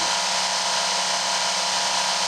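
A Work Sharp knife sharpener runs at a set speed under speed control, giving a close, steady, unbroken motor whine with a belt hiss.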